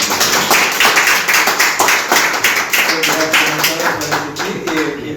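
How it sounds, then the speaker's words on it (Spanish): Audience applause after a lecture, close and loud with crisp individual claps in a dense, even rhythm that holds for about five seconds before easing slightly toward the end. "Le recibo un aplauso."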